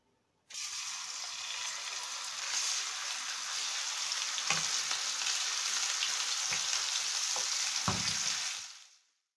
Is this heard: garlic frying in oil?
yes